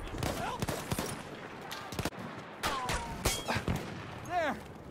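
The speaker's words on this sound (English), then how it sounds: "Enemy machine gun!" Machine gun fire rattles in a Battlefield video game battle, with loud bursts and sharp repeated shots mixed among other gunfire and shouting voices.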